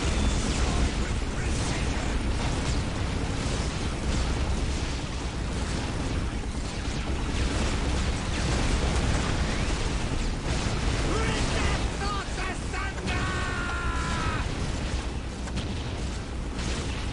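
Repeated explosions and weapon fire rumble through a battle in Dawn of War Soulstorm, part of an Imperial Guard campaign attack on a melta turret, dense and continuous with a faint voice underneath.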